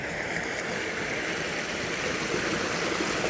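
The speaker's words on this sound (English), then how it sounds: "where all the water comes, the underwater canal for the farmers to use to water their fields." Steady, faint rushing of water flowing through a farm irrigation canal beside a sunflower garden, an even broadband wash with no talk.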